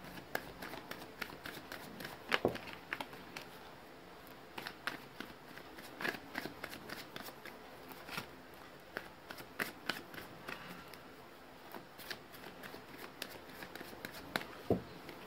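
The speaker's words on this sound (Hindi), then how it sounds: "तब तक मैं करती हूँ कार्ड्स की शफलिंग" Tarot cards are shuffled by hand in a series of soft, close riffling and slapping bursts, repeated irregularly over about fifteen seconds at low volume, with no speech.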